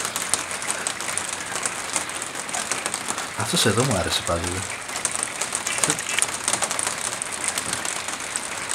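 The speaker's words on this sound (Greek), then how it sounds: "Βρέχει σήμερα." Rain falls outside an attic on an apartment building rooftop, a steady close patter and crackle on surfaces throughout, while someone speaks briefly in the middle.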